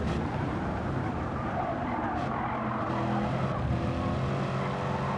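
Race car from an endurance championship in a sim racing game, its engine droning steadily and loud at speed with tyre noise, a continuous roar through the whole stretch with no talk.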